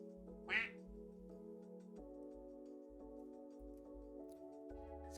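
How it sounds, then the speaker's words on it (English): A single short quack from a spider enemy in the video game NieR, one loud burst standing out over steady game music with a ticking rhythm. "It's quacking spiders, man."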